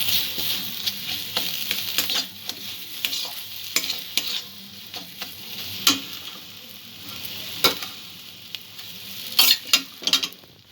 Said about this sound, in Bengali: উপকরণগুলো যতক্ষণ না একটু ভাজা ভাজা হচ্ছে ততক্ষণ একটু ভেজে নেব